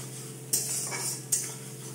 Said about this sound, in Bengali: পেঁয়াজটাকে প্রথমে আমি ভালো করে ভেজে নেব।